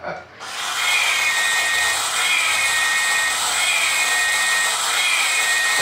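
Small RC car electric motor whining steadily on dry foam tires, a loud, sustained high-pitched buzz starting abruptly and holding with slight pitch wavers throughout.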